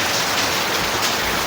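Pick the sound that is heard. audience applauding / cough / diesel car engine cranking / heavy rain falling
heavy rain falling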